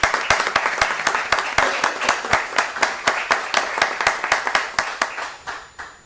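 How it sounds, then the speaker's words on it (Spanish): Hands clap in a brisk, rhythmic burst of applause at the opening of a national cybercrime symposium, distinct sharp claps that fade toward the end. "Por ello y para ellos os pediría un aplauso"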